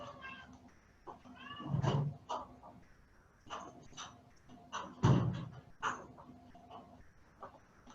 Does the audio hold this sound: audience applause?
no